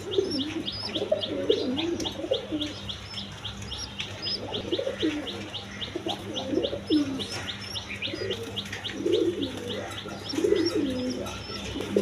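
Gorra pigeons coo in a loft of colored breeding pairs while feeding their chicks, low repeated coos layered over steady high chirping and a constant background hum, with no voices.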